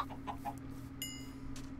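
Chickens in the Survival Islands video game give a few soft, faint clucks over a steady low background hum, with no talking.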